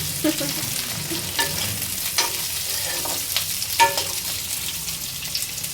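Garlic fries in hot tempering oil with a constant sizzle, sharp pops and crackles scattered throughout and the occasional scrape of stirring, close and fairly loud, with no voices.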